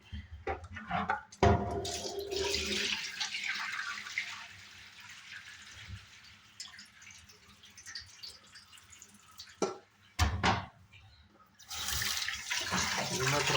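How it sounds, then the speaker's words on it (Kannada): Lentils (dal) are rinsed by hand in water, with close splashing, sloshing and running water that swell and fade in bursts, and a few brief sharper splashes. "ಇದನ್ನು ಚೆನ್ನಾಗಿ ತೊಳೆದಿರಬೇಕು. ಚೆನ್ನಾಗಿ ತೊಳಿಬೇಕು. 3 ಸಲ ತೊಳಿಬೇಕು ಚೆನ್ನಾಗಿ."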